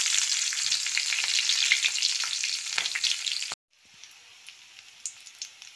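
Green chilies crackle and sizzle loudly in hot oil with cumin seeds, a dense steady frying hiss that drops abruptly to a softer, quieter sizzle partway through.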